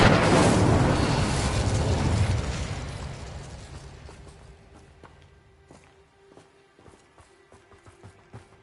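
A fire spell cast in a Harry Potter video game: a loud broadband whoosh of flame for about two seconds that fades into a quieter crackling tail with scattered small clicks and impacts.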